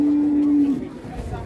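A large cow with rare big horns, resembling a banteng and kept in a cattle pen, gives one close, loud, low moo that holds steady for under a second and then trails off.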